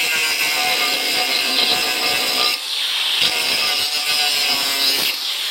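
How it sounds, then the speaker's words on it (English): An angle grinder cuts through the stainless steel handle of a pan, a loud, close, high-pitched grinding screech that briefly eases and restarts as the cut goes on, with no voices. "So I'm just going to use my angle grinder and just cut these off"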